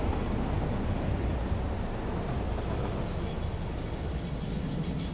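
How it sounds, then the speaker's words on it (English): A train in the factory-building video game Satisfactory runs with a continuous loud rumbling roar, broadband and unbroken throughout, with no voices. "Why is this train going?"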